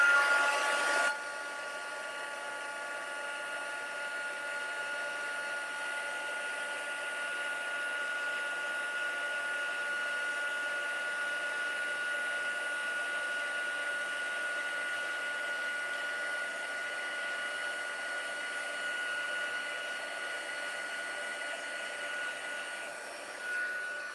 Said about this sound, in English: And use my heat tool to set that.